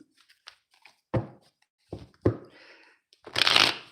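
Tarot cards being shuffled by hand: a few separate riffling, thumping shuffles close up, ending in a longer, louder riffle, with no talking.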